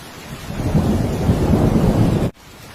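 Dense, steady rain pouring down loudly with a broad rushing hiss, cutting off abruptly near the end.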